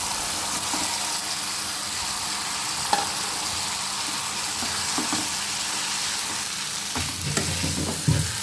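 Potatoes frying and being stirred in a pan with a masala base, a continuous close sizzle broken by occasional clanks and scrapes of a spatula, with no speech.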